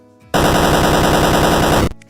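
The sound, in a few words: explosion in a Phaser video game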